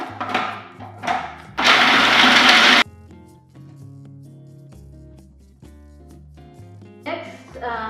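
A kitchen blender whirs loudly for about a second and a half while grinding cashews, a dense steady roar that starts and stops abruptly, with someone talking and soft background music before and after.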